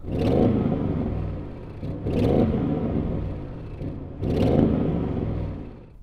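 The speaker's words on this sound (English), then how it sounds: "Let's hear the RS6 rev." An Audi RS6 engine revs hard three times while stationary, each loud, rumbling burst rising and then dropping back to a steady idle between blips.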